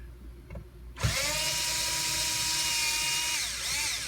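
A power driver spins out Phillips screws under the steering column of a Chevrolet or GMC truck such as a Silverado, Tahoe or Sierra. A few soft clicks, then a steady whirring whine starts and runs on, close and loud.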